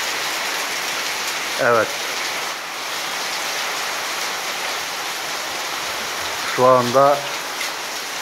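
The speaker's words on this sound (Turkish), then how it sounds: "her taraf ne biçim yağıyor yağmur" Heavy rain falls in a steady, loud roar across a village, with someone briefly speaking twice over the downpour.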